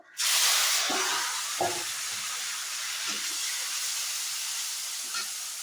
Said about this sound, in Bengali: আবার এর মধ্যে ভাজা আলুগুলোকে ছেড়ে দেব